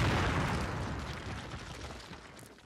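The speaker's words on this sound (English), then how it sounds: "Place your explosives on the cinder block wall." A demolition charge blowing through a cinder block wall in the Call of Duty video game: one loud, close blast with a broad rumble that slowly decays over a couple of seconds, with no talk.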